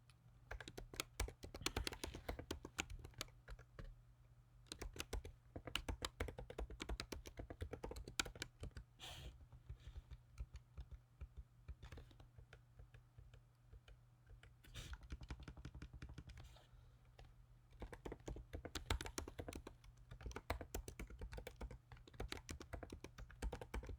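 Code is typed on a computer keyboard in steady, quiet bursts of rapid key clicks, pausing briefly now and then, over a faint low hum with no talk.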